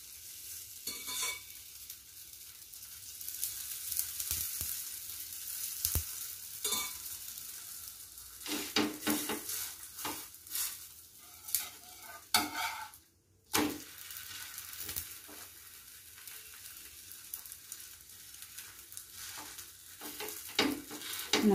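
Parotta cooks on a hot griddle with its edges pressed down. A steady oily sizzle runs under repeated scraping and pressing strokes, with one short pause in the middle.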